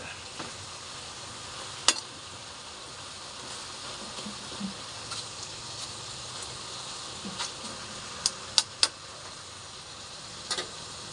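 Chicken adobo with potatoes, cooked in soy sauce, sizzling quietly in a pan as a soft steady hiss, broken by a handful of faint ticks and light clicks.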